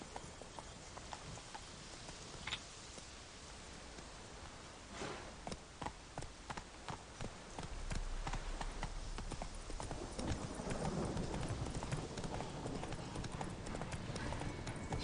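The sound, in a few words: horse Roach galloping, from a video game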